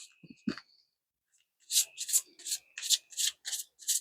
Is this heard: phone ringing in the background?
no